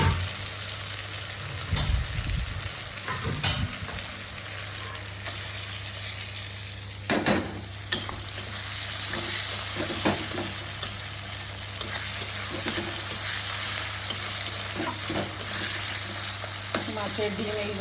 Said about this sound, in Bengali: এই যে মাছের ডিমগুলো রয়েছে, এটা আমি এই যে ভাজা পেঁয়াজের মধ্যে দিয়ে দেবো